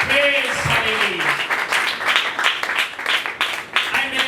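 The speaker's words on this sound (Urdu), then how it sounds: "آئے زوردار تالیاں بجائیں گے" A church congregation claps loudly during an Urdu gospel service, with dense scattered applause running under a pastor's voice throughout.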